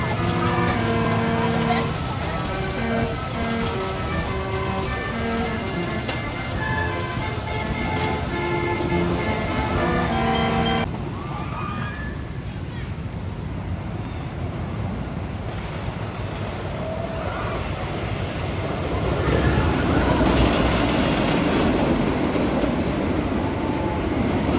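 Phoenix, a wooden roller coaster at Knoebels amusement park, rumbles and clatters loudly along its track for a long stretch, the rolling roar shifting in character partway through as the cars run on.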